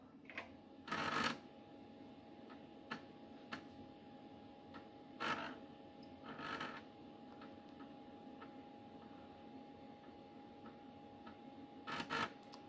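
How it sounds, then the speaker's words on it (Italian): An Osborne 1 computer's floppy disk drive loads CP/M after the return key is pressed. A faint, steady hum runs under scattered mechanical clicks and a few short grinding bursts, all quiet and close. "ho già inserito una copia di CPM sul drive A quindi ora premo return"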